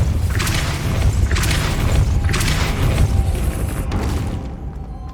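The Depulso spell cast in the Hogwarts Legacy video game sets off a series of four heavy booming bursts over a loud, rumbling low roar, each with a hissing wash on top, before it fades out.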